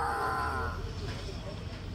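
A person's voice imitates a cow's drawn-out moo, a low sustained call near and loud that fades into background talk.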